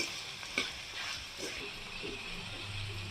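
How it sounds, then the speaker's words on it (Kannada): Onions with salt are stir-fried in a pan for tamarind rice, a faint, soft sizzle with a few scraping stirs of the spatula, heard close and fairly quiet. "ಇವಾಗ ಈರುಳ್ಳಿ ಎಲ್ಲ ಚೆನ್ನಾಗಿ ಫ್ರೈ ಆಗಿದೆ."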